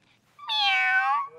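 A voice imitates a cat with a single drawn-out, nasal meow, clear and close, lasting under a second in a quiet setting.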